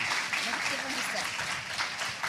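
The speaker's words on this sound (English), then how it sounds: "So if we could give them a big round of applause." A crowd claps steadily in a warm burst of applause, with voices mixed in underneath.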